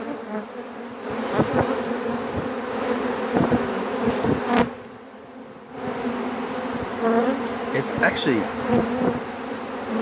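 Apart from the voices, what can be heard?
bees buzzing in flight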